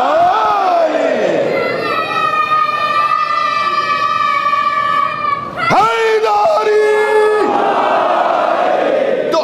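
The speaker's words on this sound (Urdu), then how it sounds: "جب یہاں نعرہ لگے تو وہاں سے بھی آپ یا علی" A large religious gathering at an imambargah in Mumbai chants the slogan Ya Ali in unison, a loud sustained collective cry that rises, breaks briefly, then swells again.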